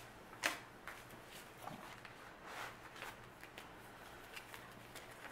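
Paper banknotes, mostly twenties and tens, being counted and handled for cash envelope stuffing, giving soft, irregular rustles and flicks that are fairly quiet and close, with one sharper snap near the start.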